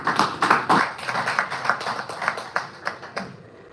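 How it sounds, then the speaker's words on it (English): A small group clapping together, a quick uneven run of hand claps that grows slightly sparser toward the end. "let's first of all clap for the one who's representing"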